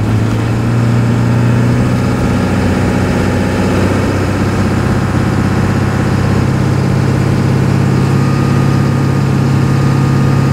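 Ford 7.3 liter diesel engine pulling uphill at light throttle, a steady, loud low drone with constant rumble and vibration heard from nearby, unbroken for the whole stretch with no voices.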